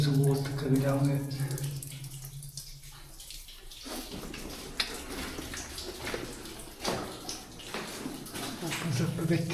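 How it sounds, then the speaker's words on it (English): Water pours and trickles down rock inside a mine, a steady rushing wash with hollow splashing that fills the space, and a voice speaks briefly over it. "with the waves of water coming down it."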